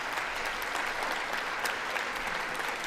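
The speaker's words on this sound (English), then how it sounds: "That's Democrats clapping." Democrats in a large chamber clapping, a dense, steady wash of many hands applauding without pause, loud and sustained with no talk over it.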